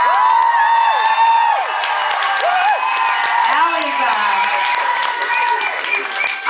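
A concert audience at a show in the Concorde, Brighton, roars with loud cheering, whoops and shrill shouts over scattered clapping, a dense, rowdy crowd sound that holds for the whole stretch.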